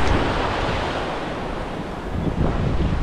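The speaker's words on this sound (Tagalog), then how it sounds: "Malaki ang alon." Loud, rumbling rush of big sea waves churning close by, mixed with heavy wind buffeting the microphone.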